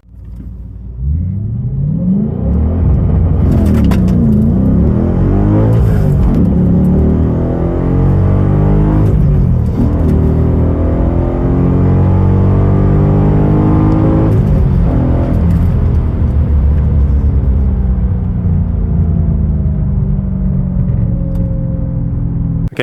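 An Audi S4 launching from a standstill on launch control at about 5,000 RPM with the clutch dumped, the engine roaring loud and close as it pulls hard through the revs in a long sustained acceleration.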